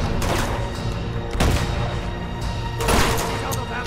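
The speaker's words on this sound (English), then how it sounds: "Stop throwing grenades at me!" Repeated heavy blasts of grenade explosions in the video game Uncharted 2 Among Thieves Remastered, three booming bursts roughly a second and a half apart amid gunfire clutter, with no voices over them.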